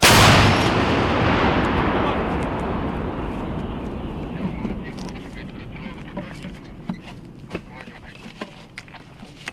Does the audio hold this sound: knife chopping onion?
no